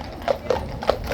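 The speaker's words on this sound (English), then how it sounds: "Look at this, City of London Police. Look how unusual these two horses are." Two City of London Police horses walk past, their hooves clip-clopping in a clear, even rhythm of about four close, distinct strikes over a quiet street background.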